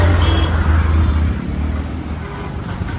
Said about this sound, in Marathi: पाहू शकता आता तुम्ही ट्रॅफिक किती लागलेली आहे ती